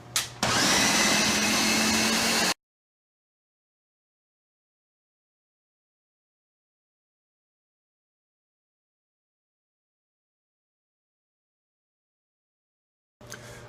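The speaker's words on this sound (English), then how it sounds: "we'll blend until smooth" An electric blender whirs loudly for about two seconds as it grinds beans into gluten-free brownie batter, then cuts off into a long silence, with a faint restart at the very end.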